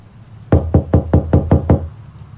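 Knocking on a door in a video game, seven evenly spaced loud hollow knocks in a quick steady rhythm, close and alone with no voices.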